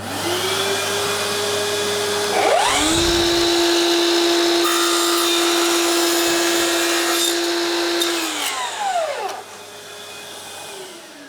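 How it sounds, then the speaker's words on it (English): A DeWalt DHS780T2 54V FlexVolt mitre saw cuts a 45-degree angle through skirting board while a dust extractor runs. The blade winds up loud and close, holds a steady whine through the cut, then spins down, with the extractor humming underneath throughout. "So I'm now going to make this cut. I will turn my extractor on."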